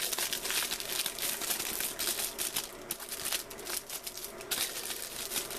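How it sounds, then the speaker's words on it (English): Plastic packaging crinkling and rustling as a keyboard case for an iPad Air is pulled free, close and steady with frequent crackling bursts throughout. "let's go ahead and get the case out of the packaging"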